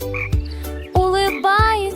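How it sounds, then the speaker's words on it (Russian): A frog croaks in a foggy swamp, three loud, close, throaty calls spaced about half a second apart, each with a sharp onset and a rising nasal tone. "Смешная лягушка прыгает из болота на бревна через туманные болота"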